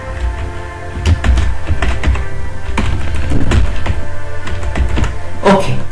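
Rapid keystrokes on a computer keyboard while entering names into an Excel spreadsheet, a steady close run of clicking taps with no talking.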